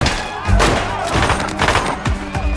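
Rapid pistol shots in a tense film scene as a woman grabs a gun from under a table and fires on a group of thugs, loud close bursts over dense action score and commotion.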